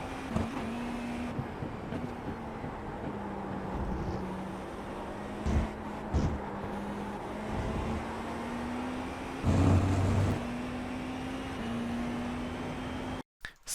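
GTP race car at full speed on the Hockenheim circuit in iRacing, a steady high engine drone holding near constant pitch with slight rises and dips, a few brief bumps and gear changes, fairly quiet overall.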